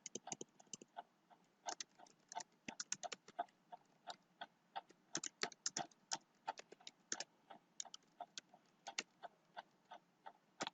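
Someone types HTML content on a computer keyboard in bursts of crisp, close clicks with short pauses between runs of keystrokes, quiet and without talking.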